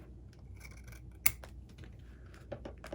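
Scissors trim the ends of a ribbon bow, a quiet series of short snips and scratchy blade slides with one sharper cut standing out, close by and unaccompanied by talk.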